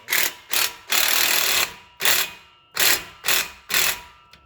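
Bursts of rapid ratchet clicking from Snap-on hand tools working loose exhaust parts, six or seven close, loud strokes separated by short pauses.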